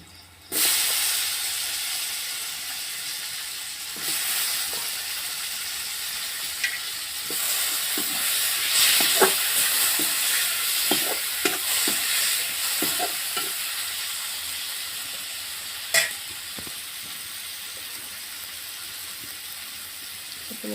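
Chopped tomatoes fry in a pan in a village-style kitchen, a constant hiss and sizzle punctuated by scraping, clinking stirs that come in irregular bursts, close and fairly loud, with no voices.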